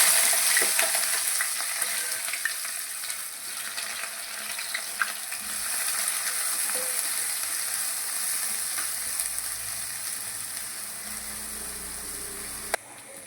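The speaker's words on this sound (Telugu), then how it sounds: "నూనె వేడెక్కిన తర్వాత ఉల్లిపాయలు వేసుకొని గోలించుకుందాం." Onions frying in hot oil for an egg curry, a steady close sizzle with faint scraping and stirring, no talking.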